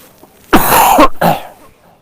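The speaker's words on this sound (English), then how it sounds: "Sorry for all the coughing" A sharp burst of coughing at a varsity baseball scrimmage, two harsh hacks close together, loud and near, with quiet background before and after.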